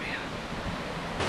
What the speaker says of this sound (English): from a nice little waterfall here.